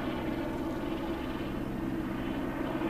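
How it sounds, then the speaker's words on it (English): A helicopter circles over a house, its steady engine and rotor drone holding at an even, moderate level throughout, distant but continuous with no talking. "all of a sudden there's a helicopter making circles"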